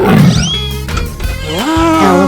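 A tiger roars loudly and close in a 3D animal video game, one long, rough, growling call over upbeat background music, rising again at the end.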